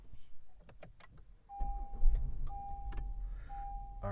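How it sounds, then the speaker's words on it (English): A 2020 Acura TLX starts up: a few clicks and key sounds, then the engine catches around the midpoint with a low rumble settling into a steady idle, a faint chime tone repeating over it. "All right, so the car starts without complaint."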